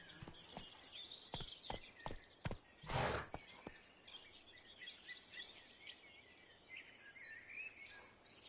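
Hooves of Roach, a horse in The Witcher 3 video game, clip-clop in a quick irregular rhythm at moderate distance, with a louder burst of hoof strikes early on, while birds and insects chirp faintly throughout.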